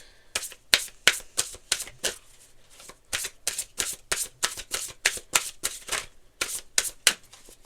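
Oracle cards are shuffled by hand in a long run of crisp riffling bursts, about two per second, close and fairly loud, with no talking.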